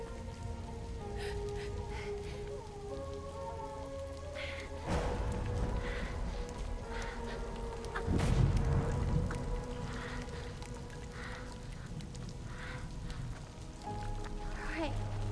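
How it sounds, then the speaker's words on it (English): Timefall rain in Death Stranding falls as a soft, steady patter on hard surfaces, layered under a low ambient drone with a few deeper rumbling swells. "Oh, wait, so it is Timefall."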